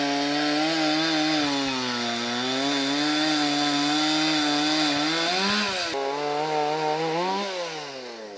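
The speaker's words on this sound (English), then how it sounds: "he's moulding the log into a more desirable shape for himself with a chainsaw" A chainsaw cuts and shapes a log, its engine holding a loud, close buzzing whine that dips and rises in pitch as the blade bites into the wood, running continuously before easing off near the end.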